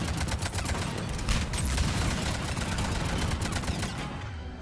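Sustained automatic gunfire in the sci-fi shooter Mass Effect 3 during a fight against Cerberus troopers, a loud, continuous rattle of rapid shots that tapers off near the end.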